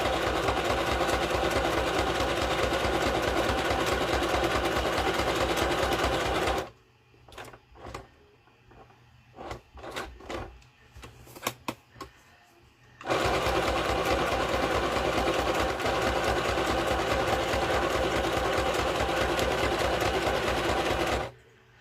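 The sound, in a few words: sewing machine stitching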